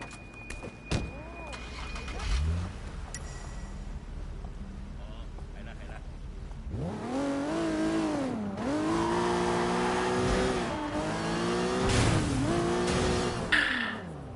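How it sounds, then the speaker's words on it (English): Car in the video game Sleeping Dogs driving across a street, the engine rising and falling through several revs and gear changes after a quieter opening, with voices talking over parts of it. "Take the car across the street."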